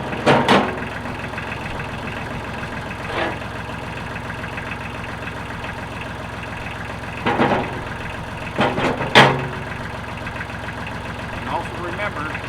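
A utility tractor engine idles in a steady low rumble close by, with sporadic knocks and clunks rising above it and someone talking at intervals.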